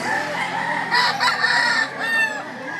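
A rooster crows loudly and close by, one long harmonic call repeated twice with a brief pause, over a busy background of clucking fowl at a gamecock market in Lipa, Batangas.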